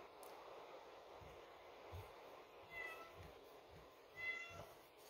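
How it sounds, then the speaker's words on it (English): A house cat meows indoors, faint and somewhat distant, giving two or three short calls over a low background hiss. "If you can hear her cat meowing."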